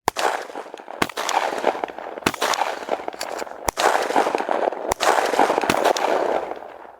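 A fusillade of gunfire bursts out in sharp, loud cracks spaced every second or so, each echoing across a glen, with a dense crackling rumble continuing between the shots.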